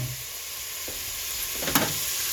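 Bacon sizzles and fries in a pan with a steady, fine crackling hiss, with a couple of brief clinks or scrapes as it is stirred.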